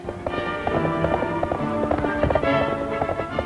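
Brisk, rhythmic hoofbeats of wagon horses clatter along over a dull, rumbling background in a 1938 western film.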